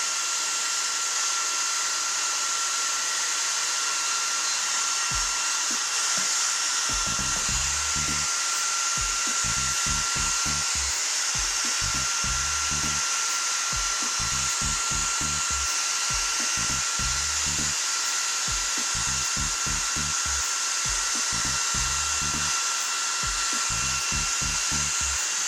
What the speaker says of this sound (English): But man, that dryer's warm.